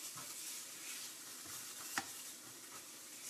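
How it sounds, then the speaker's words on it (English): Green onion and garlic sizzle softly in a hot skillet, a steady low frying hiss with light stirring scrapes and one brief sharper clink near the middle. "So this is just green onion and garlic, and we're putting it in the hot skillet."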